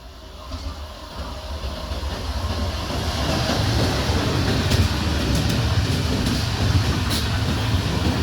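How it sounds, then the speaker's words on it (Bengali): The Howrah–Purulia MEMU passenger train rumbles through Porabazar station nearby without stopping, its steady roar building and holding with faint rhythmic clatter of wheels over rails. "এই মুহূর্তে পোড়াবাজার রেলওয়ে স্টেশন স্কিপ করছে।"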